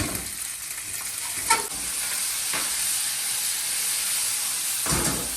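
Cherry tomatoes roast over near-maximum heat in a very hot pan, giving a continuous hissing sizzle with a few sharp spits and stirring scrapes, close and moderately loud, with no voices.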